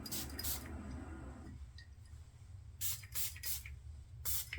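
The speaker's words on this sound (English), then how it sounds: "Just put my sprayer on this one and just got it back." Several short hissing bursts from a spray bottle, a couple of separate squirts followed by a quick run of three or four more, close by over a low hum.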